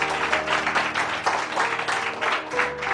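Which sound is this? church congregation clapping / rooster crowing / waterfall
church congregation clapping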